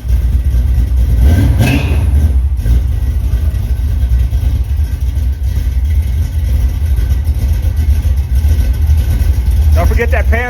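Chevrolet El Camino engine running loud and close in an open garage, a steady throaty rumble with a rev rising early on, and a brief voice or squeak near the end.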